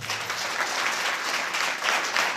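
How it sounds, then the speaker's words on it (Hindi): Applause from a church congregation fills the room, a dense, loud burst of many hands clapping together that runs steadily for a couple of seconds. "एक बार ताली बजा दीजिए।"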